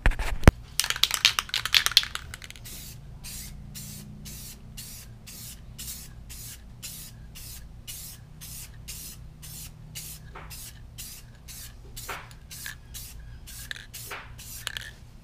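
A spray can applies a second protective coat to a restored car headlight: first a dense, hissing burst, then a long run of short, evenly spaced spray puffs, close and fairly quiet.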